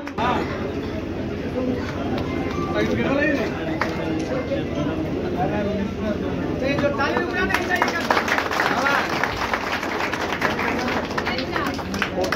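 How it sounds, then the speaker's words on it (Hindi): An audience applauds loudly at an event honouring a powerlifting world champion, with dense steady clapping that swells partway through, while voices carry on over it. "जोरदार तालियां"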